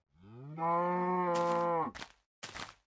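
A cow in a video game gives one long, loud, sustained moo with a rich harmonic tone, followed by two short breathy snorts, with no talking over it.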